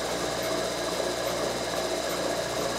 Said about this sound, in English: This old milking machine here, this is technology.